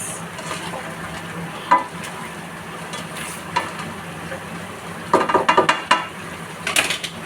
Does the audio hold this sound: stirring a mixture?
yes